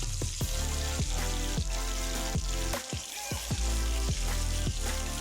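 Katla fish pieces fry in hot oil with a dense, steady sizzle, broken by regular clacks and scrapes as the pieces are moved and turned; close by, with no talking.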